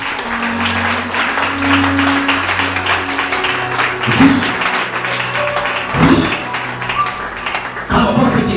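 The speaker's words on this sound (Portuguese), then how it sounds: "Aplauda o Senhor Jesus Cristo." A church congregation claps through a sermon, a broad, steady patter of hands with sustained instrument tones underneath and a few heavier thuds, while a voice briefly speaks.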